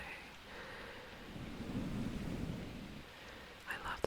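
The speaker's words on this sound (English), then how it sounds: "I put the rain because rain is always good for me" Gentle rain patters steadily while a low thunder rumble swells in the middle, followed by a few brief close taps near the end.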